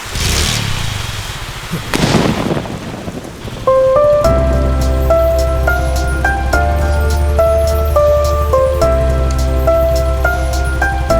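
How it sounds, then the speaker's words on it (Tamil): Heavy rain pours down in a Tamil film scene, a dense loud hiss of drops that opens alone, then continues under a melodic music score that comes in partway through. "மழை பெய்யுது"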